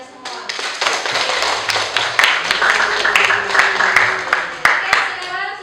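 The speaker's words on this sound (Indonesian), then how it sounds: "Sekarang beri tepuk tangan untuk kalian semua." Classroom applause for students in an Indonesian school class, a dense run of hand claps with scattered louder taps, steady and fairly close, with voices murmuring underneath.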